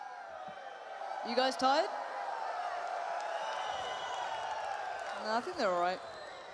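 An esports arena crowd at a CS:GO semifinal between Astralis and FaZe on Train at IEM Sydney 2017 gives a steady distant roar of cheering beneath commentators talking over it.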